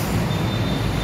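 An LRT train at Monumento station gives a steady, loud rail rumble that fills the whole short stretch without a break.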